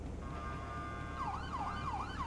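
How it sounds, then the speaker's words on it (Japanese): A police motorcycle in GTA5 sounds its default siren: a steady electronic tone gives way to a loud wail that sweeps up and down in repeating cycles over a low engine hum. "で、サイレンはこんな感じですね。"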